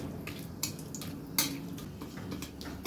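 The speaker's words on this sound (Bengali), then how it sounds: "ভালো করে ভেজে নেই।" Bay leaf and dried red chili frying in oil in a pan, with a steady low sizzle and a few sharp clinks of a utensil against the pan.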